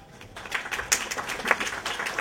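Applause from a conference audience at a real estate debate, scattered claps building into a short, moderately loud burst.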